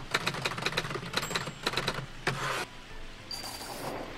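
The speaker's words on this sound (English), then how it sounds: "Typewriter." Typewriter in the hidden-object game Witches Legacy, with rapid clacking keystrokes in quick bursts, a bell-like ding, and a brief carriage sweep, close and clear against a soft background hum.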